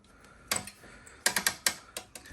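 Close metallic ratcheting and clicking as a wing nut and two bolts are removed from the brake caliper on a Honda CRF70 dirt bike, a quiet lead-in followed by a short burst of sharp clicks.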